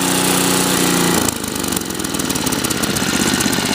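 A Sears snowblower engine turned down to low speed after warming up chugs with a rough, slightly surging beat, loud and close, its pitch dropping early on before settling into an uneven idle.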